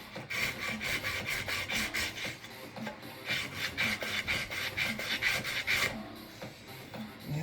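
A knife blade is sanded with 120 grit abrasive, making a steady rhythmic rasping of quick back-and-forth strokes, close and continuous, with no speech.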